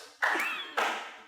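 Two slates clack together like a handclap, giving two loud, close slaps about half a second apart, each with a short ringing tail.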